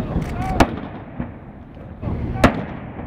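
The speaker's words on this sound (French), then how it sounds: "19 coups de canon pour un dernier au revoir" A naval cannon salute of 19 shots fires as a ship leaves the arsenal. Two heavy, booming reports ring out a couple of seconds apart over a rumbling outdoor background.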